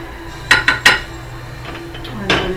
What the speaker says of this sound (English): I'm just going to stir my sauce a little bit and turn it down now that it's boiling